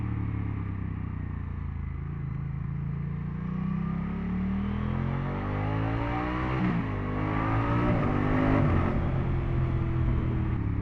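A Moto Guzzi V100 Mandello S motorcycle engine accelerates hard through rising gears, its rumbling drone climbing in pitch with several shifts and sweeps, heard from the rider's position over wind noise, with no talk.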